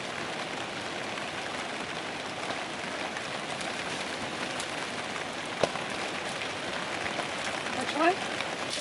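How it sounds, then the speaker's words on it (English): Heavy rain pours down steadily around a Jeep camping spot in Nanaimo, a constant dense hiss with one sharp tap partway through, heard alone without talk. "It started raining like crazy, like a lot of rain."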